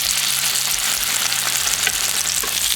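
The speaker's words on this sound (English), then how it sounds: "Now we're going to carefully place our pork chops inside our pan." Pork chops searing in hot olive oil in a pan, a steady loud close sizzle with crackling spatter throughout and no voices.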